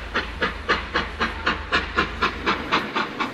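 A sleeper train departs for Chiang Mai: loud, steady clickety-clack of wheels on rail joints, about four beats a second, over a constant hiss and low rumble.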